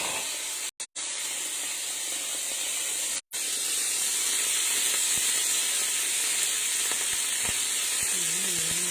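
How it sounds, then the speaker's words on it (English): Potatoes dropped into hot ghee in a home kitchen give a steady, loud broadband sizzle and hiss that runs unbroken, with two brief dropouts near the start and faint clinks toward the end. "in the ghee, I'm going to put the potatoes"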